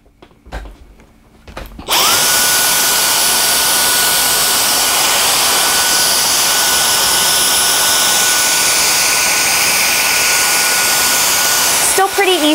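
A Dyson cordless stick vacuum, a Digital Slim DC44 or DC35, switches on after a quiet moment. It then runs with a loud, steady, high whine until it shuts off at the end.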